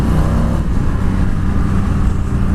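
A 2020 Indian FTR 1200 motorcycle engine pulls hard in top gear, a steady loud drone with dense low rumble and wind noise throughout, no talk.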